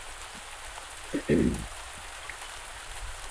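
Steady rain falls in the farming game Pumpkin Days, a soft, even patter running throughout, with a short burst of speech breaking in briefly near the middle.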